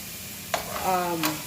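Vegetables being stirred in a pan, with scraping and clinking of a utensil against the pan over a soft sizzle, two brief sharp scrapes standing out, close by.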